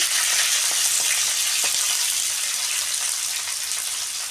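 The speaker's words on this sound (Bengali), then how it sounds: "এগুলো আমি হালকা করে ভেজে নেবো" Steady hissing sizzle of raisins frying in a pan, loud and close, with a few faint clicks.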